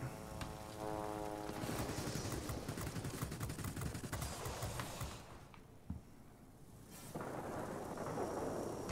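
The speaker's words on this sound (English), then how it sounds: "There's a heavy storm here." A heavy thunderstorm in the World of Warplanes game: dense rain and rolling, crackling thunder roar steadily, dip briefly to a quieter hiss, then surge again, with no voices.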